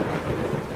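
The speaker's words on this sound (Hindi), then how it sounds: "जंगल में तेज बारिश हो रही है। घने काले बादल छाए हुए हैं। बिजली भी कड़क रही है।" Thunder rumbles during heavy rain in a forest, used as a story sound effect: a brief, dense low roll mixed with steady rain hiss, with no voices.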